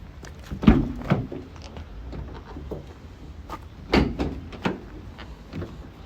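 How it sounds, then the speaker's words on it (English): Rear doors of a 2018 Citroen Berlingo 1.6 BlueHDi 75 L1 Enterprise van opening, giving a few close clunks and latch thuds spread over several seconds with a quiet background between them. "So both doors open nice and wide"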